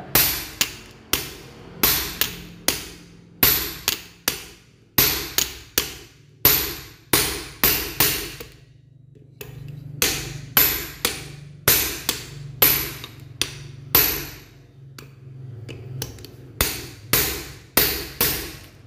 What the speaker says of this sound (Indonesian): Kita gunakan palu karena ini harus benar-benar kenceng.